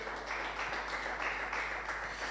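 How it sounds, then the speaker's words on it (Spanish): A church congregation claps during a Spanish-language worship service, a soft, fairly distant wash of hands with gentle pulses in intensity, quiet throughout. "Denle un aplauso al Señor Jesús"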